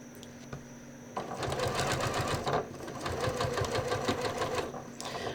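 Sewing machine set to stitch length 3.0 running steadily as fabric is fed along a curve guide under the presser foot, a fast even whirring stitch rhythm that starts after a moment of quiet, close and continuous, no talking.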